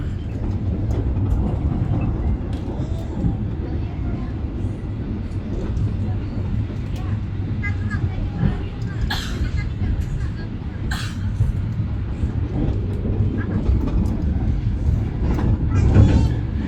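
An express train rumbling steadily along the rails between Jakarta and Yogyakarta, a constant low roar with occasional rattles and clicks, heard from inside the moving carriage of an economy-class train.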